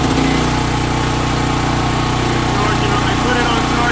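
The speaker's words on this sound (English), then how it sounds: "The starter on this has a cycle. It's going to run through that cycle no matter what." A Duromax 13000EH generator runs through its starter cycle, giving a loud, continuous mechanical engine drone that holds steady throughout without a break.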